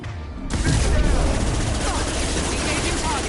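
A squad opens up with dense, continuous gunfire in Mass Effect 2, a loud rattling barrage that starts abruptly and keeps going with booming impacts.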